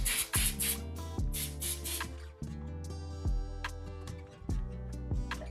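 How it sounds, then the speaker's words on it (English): Apple Guard protector sprayed onto a long vachetta leather strap in a few short, airy hissing bursts near the start, over steady background music. "Spraying this strap is gonna be a little bit tricky because it is so long"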